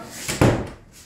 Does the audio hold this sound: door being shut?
yes